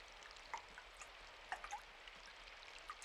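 Rain dripping onto a gutter in a video game, heard as faint, scattered drips and taps over a soft, steady wash of flowing water.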